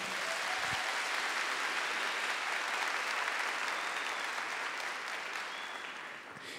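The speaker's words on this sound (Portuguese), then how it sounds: "aplaude a palavra de Deus bem forte aí" A church congregation applauds the word of God during a Portuguese sermon on the blood of Jesus, a dense, steady wash of many hands clapping for several seconds before tapering slightly at the end.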